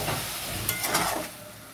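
Prawns fried with spices sizzle in a pan as a little hot water goes in, a close hissing burst that swells briefly then settles to a softer sizzle, with no talk.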